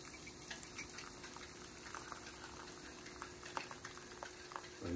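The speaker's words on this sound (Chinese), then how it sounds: "等会再加水煮烂一点" Mung bean soup simmers in a pot, a faint, steady bubbling and soft popping heard close and alone.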